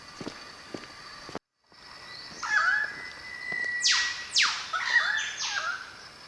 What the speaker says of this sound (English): I think those are lyrebirds.